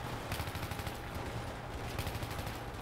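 Rapid, sustained gunfire crackles in the shooter game Battlefield 3. Overlapping automatic bursts form a continuous barrage at moderate loudness.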